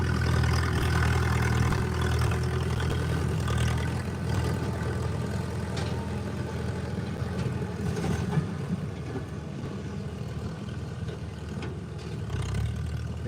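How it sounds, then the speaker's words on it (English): Oliver 77 antique tractor engine idling at a tractor pull, a steady low rumbling throb that holds throughout with slight swells, close and fairly loud with no talk over it. "We got Grant coming out on the line on an Oliver 77."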